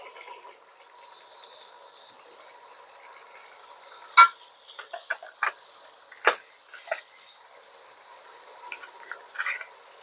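Turmeric is added to a hot pan and stirred. A quiet, steady hiss is broken by a few sharp clinks and scrapes of a utensil against the pan.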